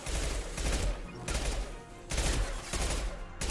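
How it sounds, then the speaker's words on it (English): Rapid bursts of SMG fire in Mass Effect 2, several loud automatic volleys in quick succession separated by brief pauses, close and punchy. "there you can see our unupgraded SMG not exactly working wonders from a damage standpoint"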